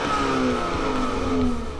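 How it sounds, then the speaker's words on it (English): A 2018 BMW X2 xDrive28i with a 2-liter twin-scroll turbo four-cylinder making 228 horsepower accelerates on a track. The engine gives a close, steady, loud drone that climbs slightly in pitch. "Motivation comes from a 2-liter 4-cylinder with twin-scroll turbocharging. I'll be taking 228 horsepower out onto the track."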